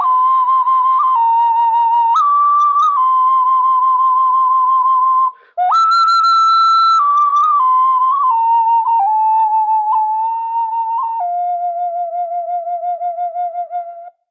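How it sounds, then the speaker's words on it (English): Aymara ocarina from Peru playing a soft, mellow melody of pure whistle-like held notes, rising and falling in steps with one brief breath gap, close and clear with no voices. "Okay, that's an Aymara ocarina."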